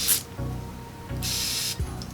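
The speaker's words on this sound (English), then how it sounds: "I'm going to be using my Evian water spray" Two short bursts of fine misting spray, hissing from a nearby Evian water spray bottle, the second longer and steadier than the first.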